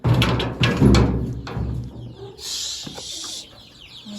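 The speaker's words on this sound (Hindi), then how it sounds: "चलो आपने चूजे देख लो अब।" Young chickens on a farm, scattered clucking and cheeping calls heard up close among rustling and handling noises.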